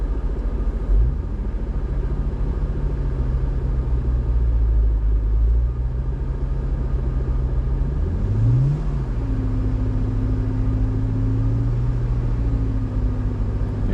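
Toyota Hilux TRD with independent front suspension and full hydraulic steering, idling with a low rumble on a double rock step, then revving in short rises and settling into a higher steady drone as it climbs, with no talking.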